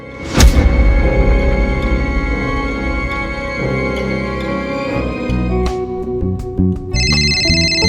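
A phone ringing indoors, an electronic ringtone with tonal musical notes, ending in a brief higher bright tone, with no talk.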